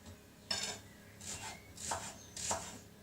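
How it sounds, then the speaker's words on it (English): Shallots being cut on a board in a home kitchen, four separate knife chops at a slow, uneven pace, close and fairly quiet, with faint background hum between strikes. "cutting up my shallots, I've cut up some bacon"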